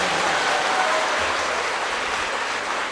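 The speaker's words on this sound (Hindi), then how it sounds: "एक बार जोर से ताली बजाएं प्रभु के लिए" A church congregation in Assam breaks into loud, sustained clapping praising the Lord, a thick wash of hands filling the hall evenly for a few seconds.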